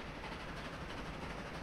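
Trains running in the transport simulation game Transport Fever 2, a steady, continuous rail rumble with a faint rhythmic clatter that holds evenly throughout the short stretch.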